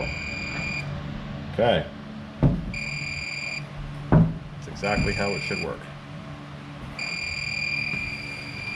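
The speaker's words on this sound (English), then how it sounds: "All right, should start to beep." A door alarm with a magnetic reed switch sensor on an entry door gives repeated electronic beeps in several bursts, each lasting about a second, while a person talks nearby between them.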